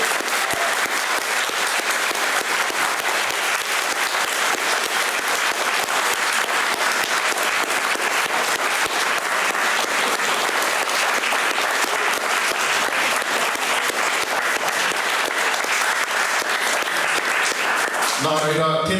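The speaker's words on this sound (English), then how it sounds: "Please give them a round of applause." An audience applauds speakers at a talk on Te Tiriti and socialism, a loud, sustained, even roar of many hands clapping that lasts nearly twenty seconds before breaking off, with a voice starting at the very end.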